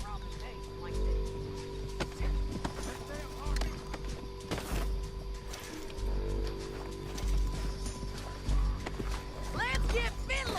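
Horse hooves clip-clop in a rhythmic gallop in Red Dead Redemption 2, moving along steadily over continuous game ambience while characters talk.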